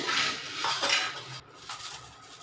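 Spoons and a steel dish clink and scrape as freshly made Gujarati Surti sev khamani is dished out, with close, repeated metallic taps and scrapes and no talking.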